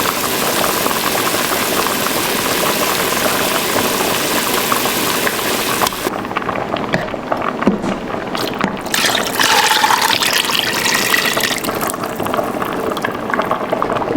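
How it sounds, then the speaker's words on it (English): Whole canned tomatoes and their juice pour into a cooking pot during home tomato canning, giving a steady liquid rush and splashing that shifts partway through as the pouring changes. "So I'm gonna put the whole tomatoes in first,"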